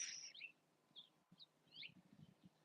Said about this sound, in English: I'm surrounded by finch and blue jays,